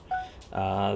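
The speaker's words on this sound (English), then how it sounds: "Oops, sorry for my phone." A phone going off during a game commentary, giving a short electronic tone with steady harmonic pitches that rises sharply after a brief blip, close and clear.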